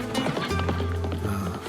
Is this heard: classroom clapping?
no